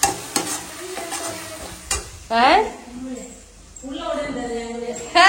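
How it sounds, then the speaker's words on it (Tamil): Hand-pounded ginger garlic paste is sautéed in a pan for chicken fry, with a spatula stirring and scraping over a soft sizzle while people talk nearby. "இஞ்சி பூண்டு பேஸ்ட் கையாலே தட்டி போட்டு வதக்கிட்டு இருக்கேன்"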